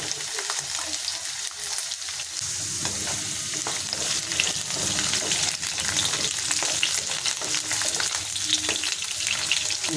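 Something frying to a medium brown in a pan, a loud, dense sizzle with repeated stirring scrapes rising toward the end, no talk.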